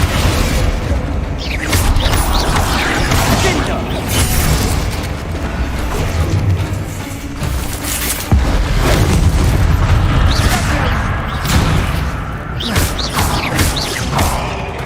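Heavy explosions from Confringo and Bombarda spells in the Hogwarts Legacy video game, a steady run of loud booms, pops and whooshing bursts over busy combat noise, with little talking.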